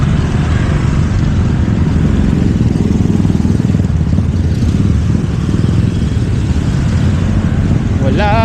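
Steady, loud engine drone and road rumble of a motorcycle being ridden, continuous throughout with wind noise.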